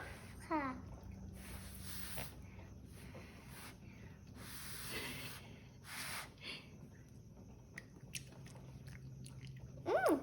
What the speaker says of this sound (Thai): ต่อไปน้องปันก็จะชิมนะคะ